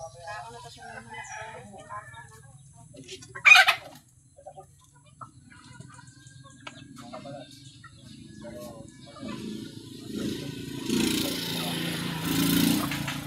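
Chickens cluck and a rooster crows close by, with one sharp loud call early on; a voice speaks briefly and a low engine-like drone runs underneath.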